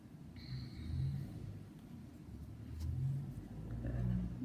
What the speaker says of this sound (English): Sorry if you can hear the car.